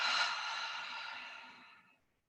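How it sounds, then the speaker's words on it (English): A single slow, audible exhale through the mouth during a yoga cleansing breath: a soft, breathy rush lasting about two seconds that tapers off into silence. "We'll inhale through our nose and exhale through our mouths."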